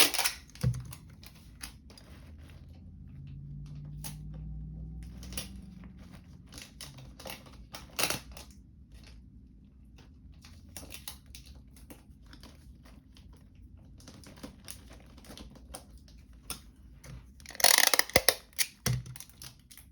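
Adhesive tape is pulled and handled to secure items in a travel bag, making quiet crinkling and ticking sounds that build to a louder tearing burst near the end.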